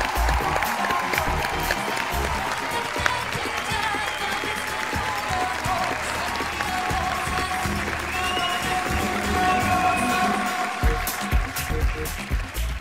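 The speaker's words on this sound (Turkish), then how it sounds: "alkışlar Adem Süner'e" A studio audience at a Turkish comedy show applauds a young contestant, loud sustained clapping and crowd noise filling the whole stretch without a break.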